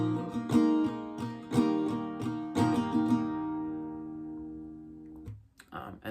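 An acoustic guitar strums the second line of the first verse of a song: a few bright down-up strummed chords, then a last chord rings out and fades, close and clear with no voice.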